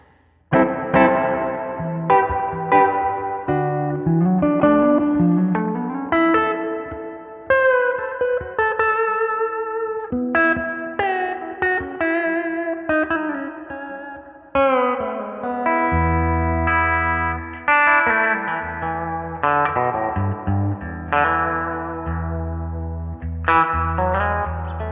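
Electric guitar played through a Fender Jack White Pano Verb amp with reverb on the full setting, coming through both speakers: ringing chords and single notes with a lush spring-like reverb tail, loud and alone with no talk.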